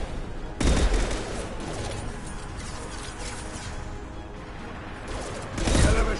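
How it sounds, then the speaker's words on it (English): Impact-shot gunfire in Mass Effect 2: a loud blast opens, followed by a sustained rattle of fire and combat noise, then another heavy burst near the end. "Firing an impact shot."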